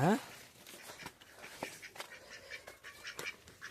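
Chickens heading into a coop, opening with a sharp squawk, then scattered clucks and rustling close by, with someone talking over them.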